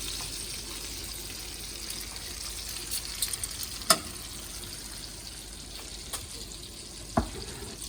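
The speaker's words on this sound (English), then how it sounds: "this is just how you cook a quick steak in the butter" A steak frying in butter in a pan: a soft, steady sizzle runs throughout, with a few sharper pops and clicks of utensils standing out now and then.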